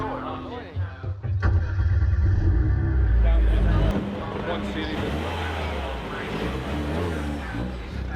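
A BMW 1 Series race car jump-started off a Jaguar: a loud engine cranks and catches with a burst of low rumble, then settles into a steady idle under background voices.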